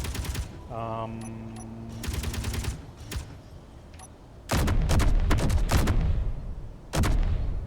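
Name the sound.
autocannon firing in Space Engineers video game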